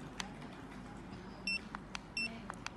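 A code scanner gives two short, bright electronic beeps about a second apart over faint background hum and scattered clicks.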